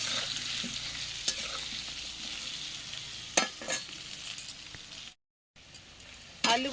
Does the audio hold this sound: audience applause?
no